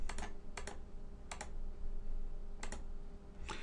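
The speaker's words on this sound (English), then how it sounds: "And as you start typing that word," Taps on a Windows Phone touchscreen keyboard while typing a word into the Collins translator dictionary app, a few sharp clicks in small clusters with pauses between, close and clear over a quiet background.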